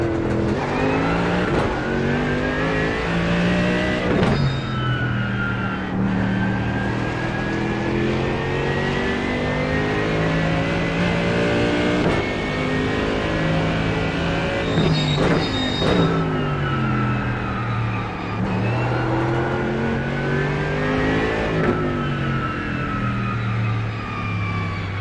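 Race car on wet tyres on a dry track in iRacing, a loud sustained engine whine rising through the gears with sharp drops at each shift, repeated over a long run.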